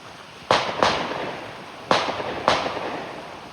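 Distant gunshots from a shooting range beside a walking trail in Coraopolis: four sharp cracks with echoing tails, spaced in two pairs, heard faintly across open ground.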